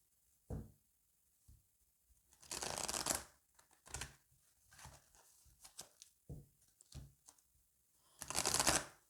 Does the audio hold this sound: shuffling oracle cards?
yes